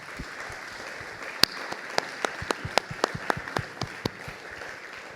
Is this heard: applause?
yes